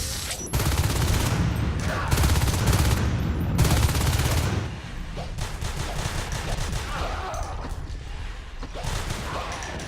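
Shotgun fire and combat noise in a Natural Selection match crackle in a dense, continuous barrage, loud and heavy for the first few seconds, then thinning to a busier, lighter clatter of mechanisms and shots.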